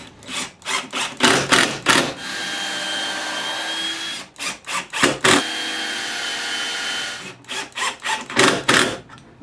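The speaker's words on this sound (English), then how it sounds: "pre-drill you a hole, and I'm just going to use some Craig screws" A drill bores pilot holes and drives screws into wood while building an end center marking jig: repeated loud bursts of whirring motor and grinding bite, with short pauses between runs.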